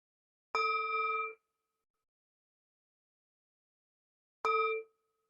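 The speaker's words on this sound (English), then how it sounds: "I will ring the bell to complete the meditation." A meditation bell is struck twice, several seconds apart, to close a group meditation. Each strike gives a clear, bright ring that fades quickly in a quiet room.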